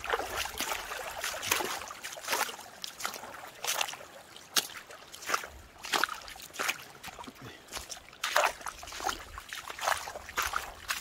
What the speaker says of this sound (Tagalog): Tunog ng tubig.